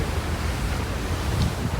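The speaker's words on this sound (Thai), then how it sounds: "ลมมันแรง" Strong sea wind on a boat roars steadily against the microphone, a dense, unbroken rush with no voices.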